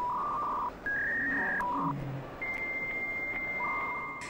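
A dial-up modem handshake: dialing tones, then steady high whistles and warbling, screechy negotiation tones, loud and continuous with no voices.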